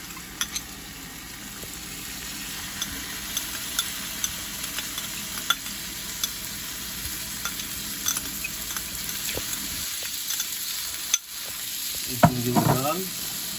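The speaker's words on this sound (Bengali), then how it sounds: "এখন চাল দিয়ে দিচ্ছি" Rice tipped into a frying pan and stirred for vegetable bhuna khichuri: a steady frying sizzle with scraping stirs throughout, then a brief louder burst of clatter and hiss near the end, with no talking.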